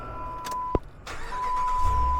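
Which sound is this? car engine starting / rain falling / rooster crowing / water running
car engine starting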